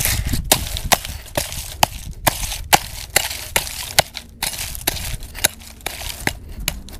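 Plants are yanked one by one out of hard, dry, infertile soil in a garden bed, giving a rapid series of sharp cracking snaps and crunches of tearing roots and breaking earth, close and loud.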